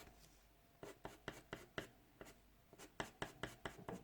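An 8B pencil shades dark tones on paper in a series of distinct scratchy strokes, close and fairly quiet, growing more frequent toward the end, with no talking.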